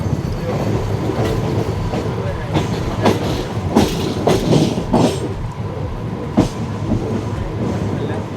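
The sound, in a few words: Mumbai fast local train departing Kalyan junction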